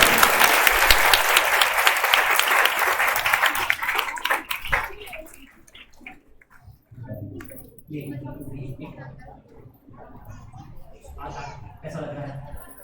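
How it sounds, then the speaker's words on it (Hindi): A religious conference crowd in Gorakhpur claps loudly and steadily for several seconds, then the applause fades into quieter room noise with some voices. "यीशु के नाम से ताली बजाकर यीशु के नाम से।"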